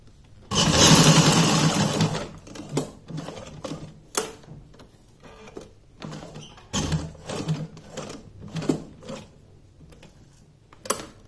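A sewing machine stitches satin ribbon onto a small doll dress, starting with one long whirring run and then continuing in short stop-start bursts of rapid needle clatter, close and distinct.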